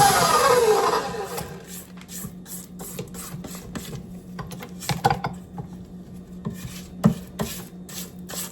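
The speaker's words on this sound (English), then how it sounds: "I'm going to stop the mixer and just scrape down the sides" A spatula scrapes down the sides of a mixer bowl of cherry bar batter after the mixer stops: repeated close, rasping strokes in an uneven rhythm, with an occasional light knock against the bowl.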